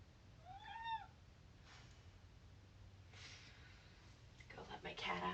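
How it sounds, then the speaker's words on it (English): A house cat meows indoors during a quiet yoga session: a short run of rising meows up close, followed by soft rustling and faint movement. "Go let my cat out."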